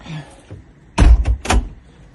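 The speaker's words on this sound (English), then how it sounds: "Shut that door now." A door is shut firmly at a drain unblocking job beside sewage manholes. A soft shuffle comes first, then two or three heavy thuds and rattles in quick succession, loud and close.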